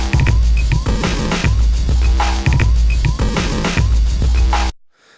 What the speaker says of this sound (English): I've just got three drum beats, three drum loops